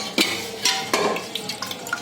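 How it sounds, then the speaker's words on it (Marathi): Clattering spoon scrapes and wet plops as cooked chicken is dropped and stirred into a masala pan for chicken handi, several irregular knocks close by. "आता हे चिकन घालते मी याच्यात."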